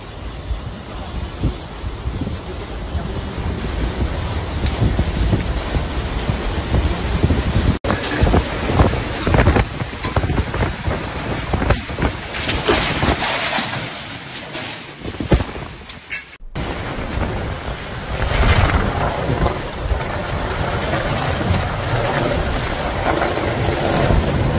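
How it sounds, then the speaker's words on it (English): Strong storm wind gusts on a hill in Mallorca roar and buffet the microphone continuously, with low rumbling bursts rising and falling throughout. "accompanied by strong gusts of wind"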